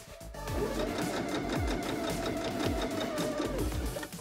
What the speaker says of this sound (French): on va pouvoir passer à la couture à 1 cm du bord jusqu'en bas